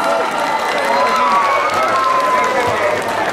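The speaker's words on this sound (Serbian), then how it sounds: "veliki aplauz" A concert crowd claps and cheers for a band leader being introduced, sustained applause with shouts and voices running through it, loud and even from start to finish.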